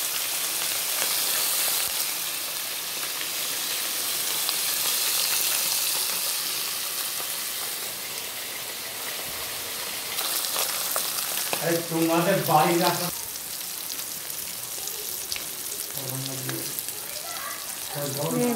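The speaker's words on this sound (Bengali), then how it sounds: "এই মাছগুলো ভাজা হয়ে গেল" Fish frying in oil in a kadai, giving a steady broadband sizzle across the whole stretch, with a voice talking over it near the end.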